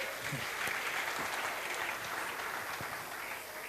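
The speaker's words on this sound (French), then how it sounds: "faut applaudir pour vous" Steady applause from a stand-up comedy audience fills the room, a continuous wash of clapping at moderate level with no one speaking.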